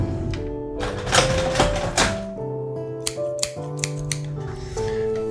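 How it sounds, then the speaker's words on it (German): Scissors snip in a video game, a series of sharp crisp cuts spread across the clip over a sustained tonal music bed. "Also meine Mutter allerdings eine Schere zückte."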